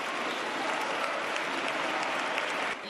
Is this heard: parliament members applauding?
yes